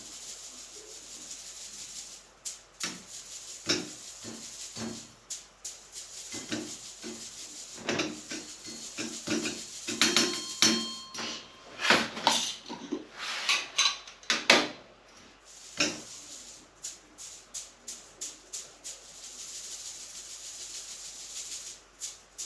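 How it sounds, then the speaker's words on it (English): Maple sugar powder sifted through a strainer into a mason jar, a soft steady rasping and rubbing with clusters of scraping taps building in the middle, close and quiet with no talk. "put some sugar powder in there and just sift it"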